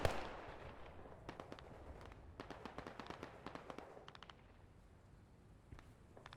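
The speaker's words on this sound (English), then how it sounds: "Hearing those marine weapons go off" Marine weapons fire in a Battle of Iwo Jima video game, heard as a run of sharp, fairly faint distant pops and cracks in irregular bursts that thin out toward the end. No one speaks over it.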